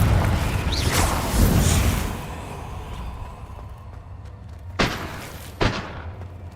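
The Confringo fire-blast spell in the Hogwarts Legacy video game lands as booming explosive bursts: a rumbling roar at the start, then two sharp whooshing blasts close together near the end.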